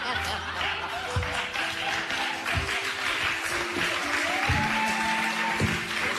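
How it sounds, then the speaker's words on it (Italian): Applause from a radio studio audience follows a sung verse on a variety broadcast, mixed with chuckles and laughter and some background tones, fairly close and lively. "La gente sottolinea con applausi"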